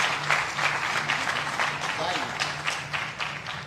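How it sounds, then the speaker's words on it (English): Applause from a hospital event audience in Brooklyn for Dr. Mitchell Katz, a steady wash of clapping running the whole length over a low hum. "please give a round of applause to Dr."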